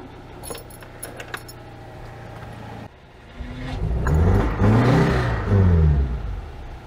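An Oltcit car's engine catches after jangling keys and cranking, rising into a loud, uneven revving burst for a couple of seconds before sputtering and dying away, close and with no talk.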